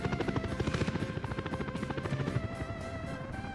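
A helicopter in the city-building game Workers & Resources flies with a fast, steady rotor chop and engine whine, a rhythmic pulsing hum at moderate level and no voices.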